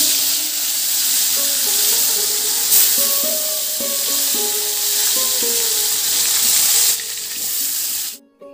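Fish curry with ridge gourd sizzles and fries steadily in a pan, a continuous close hiss with faint stirring and clinks, ending abruptly near the end.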